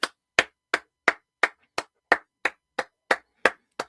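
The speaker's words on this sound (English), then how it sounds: "Let's everyone give a round of applause to Mr." Slow round of applause, about a dozen sharp, isolated claps in an even rhythm, each followed by complete silence, close and crisp like a single pair of hands.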